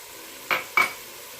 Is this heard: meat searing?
yes